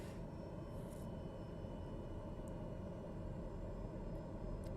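TBM 930 turboprop engine idling in Microsoft Flight Simulator, a steady low broadband drone with faint whine, moderately quiet and constant, no voices.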